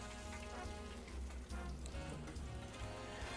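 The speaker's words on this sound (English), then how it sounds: "I'm listening to my fryer, and I can just hear it starting to sizzle up." Oil sizzles steadily in a fryer, a dense crackling hiss that stays constant and fairly quiet throughout.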